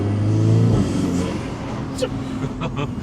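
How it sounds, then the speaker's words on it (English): Remapped VW Scirocco R with an aftermarket exhaust accelerating on the road, engine drone dropping away into a sharp pop from the DSG gearbox, followed by faint turbo whistle as a voice talks over it. "we had a bit more of a DSG fart out the back now, and also you can hear it spooling"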